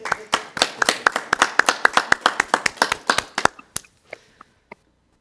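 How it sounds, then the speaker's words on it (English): A small group at an infrastructure services committee meeting claps in a quick, close, crisp round that thins out to a few last isolated claps before silence. "I would like to propose a round of applause for our staff."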